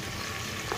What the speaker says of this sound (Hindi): ये मीडियम साइज़ की हमने प्याज लिया और बारीक सा काट लिया, ये हम घी में ऐड कर देते हैं